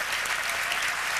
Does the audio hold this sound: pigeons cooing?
no